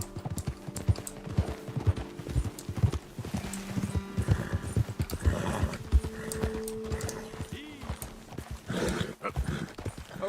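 Horses' hooves clip-clop at a walk in the Western video game Red Dead Redemption, a close, uneven run of thudding steps with occasional snorts and a brief whinny.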